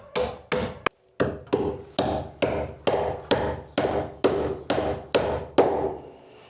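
Framing hammer driving nails during new-build house framing: a steady run of about a dozen sharp, loud, close blows spaced roughly half a second apart, each with a short ringing decay, no voices.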